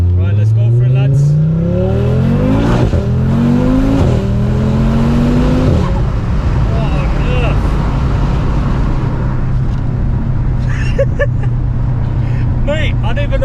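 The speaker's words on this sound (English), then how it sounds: "Finally give it full throttle, because I haven't been full throttle yet." A VW Golf R fitted with a 640bhp 2.5L Audi RS3 engine accelerates hard at full throttle, its loud engine note climbing through gears with sharp shift breaks, then settling into a steady drone with road roar.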